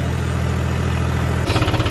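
A John Deere tractor engine pulling a rotavator runs as a steady low rumble close by, then turns into rougher, pulsing throbs near the end.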